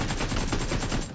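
Rapid automatic gunfire from a PUBG Mobile match rattles in a fast, steady burst of shots lasting about a second, loud and close with no voices over it.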